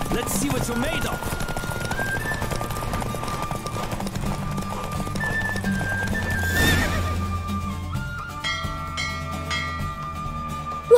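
A horse gallops with steady clip-clop hoofbeats and gives a loud whinny midway in a race in the game Witcher 3: Wild Hunt, the hooves close and continuous under game music and a brief voice.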